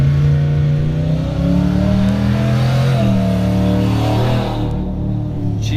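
An old school Ford Bronco race car engine revs loudly and close at High Desert 100 qualifying, pitch rising and shifting through several steps before easing off near the end.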